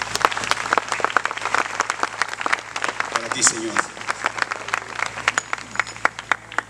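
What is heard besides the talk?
congregation applause in church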